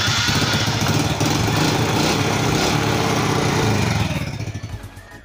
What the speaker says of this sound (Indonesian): bisa dilihat nih starternya juga kuat ya tuh